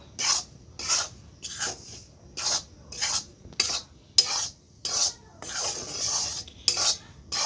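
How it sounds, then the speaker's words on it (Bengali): Rice flour dry-roasted in a heated wok, stirred with a utensil in repeated scraping strokes, about eight to nine rhythmic bursts with brief gaps, close and fairly clear with no talking. "চালের গুঁড়িটা আমার হালকা একটু ভাজা হয়ে গেছে"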